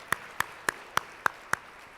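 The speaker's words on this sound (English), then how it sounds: "Let's give everyone a big round of applause." A handful of sharp, evenly spaced claps, about six in two seconds, at a school foundation recognition breakfast; they are quiet, isolated and slow, with no crowd swell behind them.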